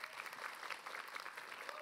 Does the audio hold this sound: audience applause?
yes